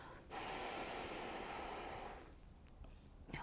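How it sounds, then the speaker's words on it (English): A long, deep breath drawn in through the nose during a calming menopause relaxation exercise, a close, airy rush lasting about two seconds, followed by quiet held stillness and a small rustle. "Now take a big deep breath in and hold the breath."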